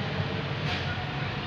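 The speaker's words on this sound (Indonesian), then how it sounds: "keberangkatan kereta api gitu ya." A train pulls away at Manggarai station in Jakarta, a steady broadband rumble and rolling hum filling the platform without a break.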